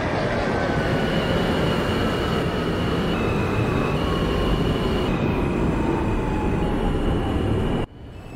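R160A New York subway train in the OpenBVE simulator running on the R line, a loud steady rumble of wheels on rail with rising and falling motor whine, then an abrupt drop near the end.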